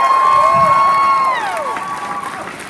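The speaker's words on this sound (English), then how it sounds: "round of applause for the F&B submissions" Crowd at a 2018 SoDak Con cosplay competition cheering and applauding the submissions, a loud burst of whoops and clapping with a few sustained shouted tones that fades slightly toward the end.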